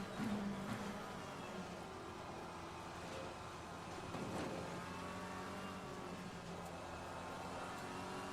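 A McLaren race car at Spa in Assetto Corsa Competizione: a faint, steady engine drone with the pitch shifting as it accelerates and changes gear, continuous and distant-sounding throughout.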